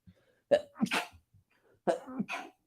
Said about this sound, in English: Oh, I'm going to sneeze, I think.